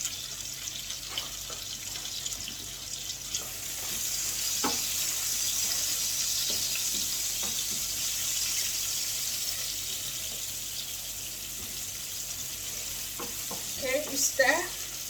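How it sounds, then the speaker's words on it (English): Onions fry in hot oil in a pan, a steady close sizzle with occasional spoon taps and scrapes as they are stirred, and brief clatter near the end. "So the oil is hot, so I'm going to add the onions into it. I'm going to stir for like 2 to 3 minutes."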